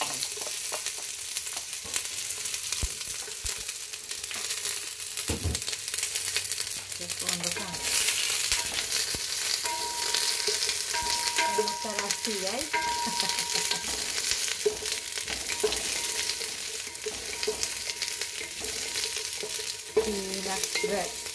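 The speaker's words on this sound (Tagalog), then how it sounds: "nag-brown na ang onion, guys. Golden brown na siya." Garlic and onion sautéing in oil for Filipino pinakbet, a continuous crackling sizzle with repeated stirring scrapes and occasional utensil clinks against the pan, steady and close without speech.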